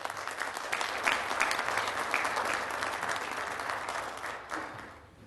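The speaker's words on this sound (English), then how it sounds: "Please, if you can refrain from applauding until the end" Audience applause at a city council meeting, a close, busy patter of many hands that holds steady for a few seconds, then fades out.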